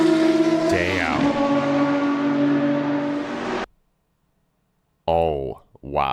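A BMW M1 ProCar race car engine revs hard on an onboard lap, a loud sustained howl with rising and falling pitch, cutting off abruptly, then returning briefly after a silent pause.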